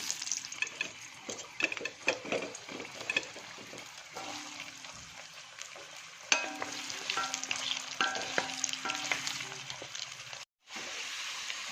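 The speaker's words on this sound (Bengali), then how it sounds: "এবার এই তেলেই আমি আলুটা ভেজে নেব" Potatoes fry in oil in a home kitchen, giving a close, crackling sizzle with clinks and scrapes of stirring, a faint hum underneath and a brief silent break near the end.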